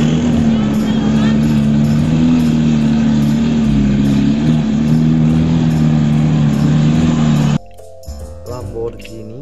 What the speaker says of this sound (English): Lamborghini Sian.